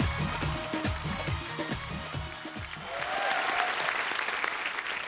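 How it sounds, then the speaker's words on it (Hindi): A studio audience at a comedy talk show claps steadily, a dense wash of applause that swells slightly toward the end. "आप सबकी तालियों के बीच इनवाइट करना चाहूंगा मिस्टर उमंग कुमार को।"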